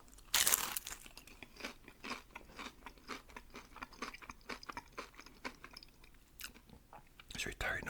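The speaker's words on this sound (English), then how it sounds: "Crunchy chicken. Look at that crunch. That's some serious crunch." Crunchy fried chicken from Lee's Famous Recipe is chewed close to the mic in loud, repeated crisp bites and crackling crunches, with soft talking in between.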